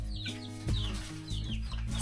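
Baby chickens sick with fowl pox cluck softly in a new coop on an off-grid homestead, with several brief, close calls over a low background hum.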